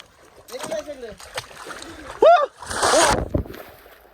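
Voices shout and call out, then a loud splash of a person jumping into water, followed by churning, sloshing water.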